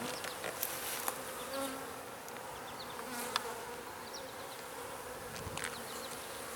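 A steady, dense buzz of many honeybees fills the air up close, with a few individual bees droning past nearer at moments.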